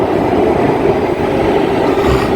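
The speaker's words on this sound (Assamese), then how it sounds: "তো গাইজ আমাৰ মেট্ৰ' আহি আছে, চাব পাৰিছে।" A Delhi Metro train pulls into a station platform with a steady, loud rumble and a hiss of wheels on rails. The sound holds evenly throughout, with no voices.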